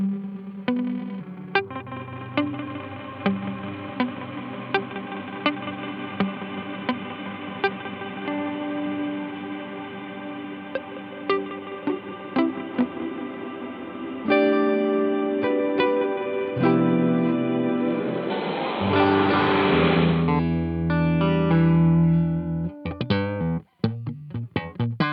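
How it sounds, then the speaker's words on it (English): Chase Bliss MOOD pedal producing a massive, lo-fi reverb on a played instrument: sustained washy notes swelling and smearing together, growing denser and grainier before a string of sharp, stuttering hits at the end, no talking. "you get a bigger reverb, much more massive kind of reverb, but it's a little bit lo-fi"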